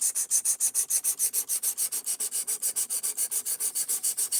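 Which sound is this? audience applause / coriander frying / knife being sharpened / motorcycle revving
knife being sharpened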